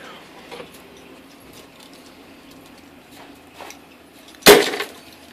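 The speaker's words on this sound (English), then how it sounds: "Slide the bolt forward and lock it down" An air rifle bolt slides forward and locks down in one sharp metallic clack near the end, preceded by a few faint handling clicks against quiet background.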